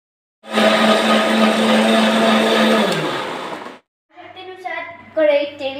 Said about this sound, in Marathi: आता मी कांदा व लसूण पेस्ट करिता मिक्सरमध्ये टाकते।